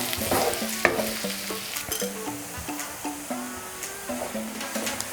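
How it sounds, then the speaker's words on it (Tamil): Onions sautéing in oil toward golden brown for okra masala, a low steady sizzle broken by repeated spatula scrapes and stirring knocks, with soft background music and no speech. "வெங்காயம் நல்லா கோல்டன் ப்ரௌன் ஆகிற வரையும் நல்லா கொஞ்சம் வதக்கிங்க."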